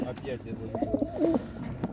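Pigeons coo softly in short, throaty bursts close by at an animal market in Ivano-Frankivsk, Ukraine, with rustling and faint background noise around them.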